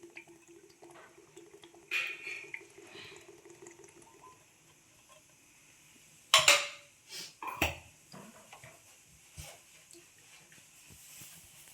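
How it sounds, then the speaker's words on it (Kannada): Oil is poured into a pot on a lit gas stove for chicken biryani, a soft, faint trickle with a few nearby metallic clanks and scrapes of cookware in a quiet kitchen. "ನೋಡಿ, ಆಯಿಲ್ ಹಾಕ್ತಾ ಇದ್ದೀನಿ."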